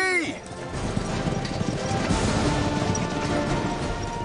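A horse gallops with a continuous, dense drum of hoofbeats, loud and close, while someone speaks over it and a brief high whinny-like sweep opens the sound.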